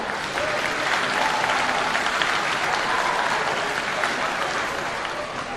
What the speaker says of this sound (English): one more round of applause for our cheerleader group